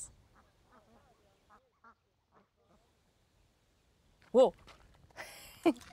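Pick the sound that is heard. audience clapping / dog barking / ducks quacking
ducks quacking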